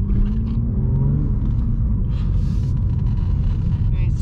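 BMW M2 Competition driving on the road, a steady low engine rumble with road and wind noise from inside the cabin, loud and continuous with faint talk over it.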